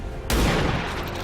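Gunfire at a sectoid in the video game XCOM 2: a sudden loud burst of shots hits hard and then rings off into a fading rumble, with no talking over it.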